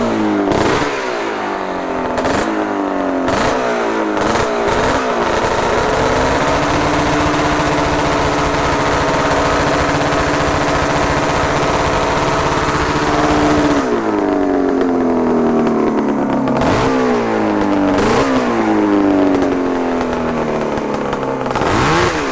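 A monstrous kart cross engine fires up and revs loudly and continuously up close, its pitch sweeping up and down through repeated throttle blips, with a sustained higher rev stretch in the middle and rattly mechanical clatter throughout.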